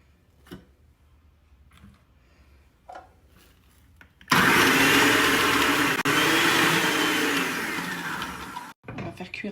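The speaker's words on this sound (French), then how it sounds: "Là, je vais hacher les oignons." An electric chopper whirs loudly through onions in a home kitchen, a steady motor roar of about four seconds after some quiet tapping, then a brief pause and a short restart.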